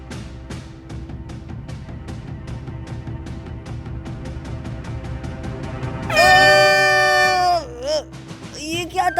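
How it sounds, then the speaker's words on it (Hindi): A loud air horn blast cuts in abruptly over busy background chatter and clatter, holding a steady blaring tone for about two seconds before wavering off. "जाकर मेरा हॉर्न लेकर आओ।"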